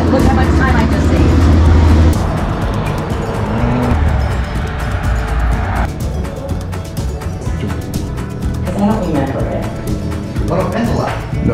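A tour bus for a catamaran sailing trip at Playa Flamingo, Costa Rica pulls up, its loud engine rumble and road noise rising and settling with hissing brake-like bursts, while people talk nearby.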